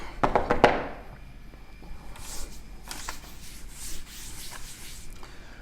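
Writing is rubbed off a classroom board during a physics lesson. A few quick taps lead into soft, scratchy rubbing strokes that go on at a modest level in a quiet room.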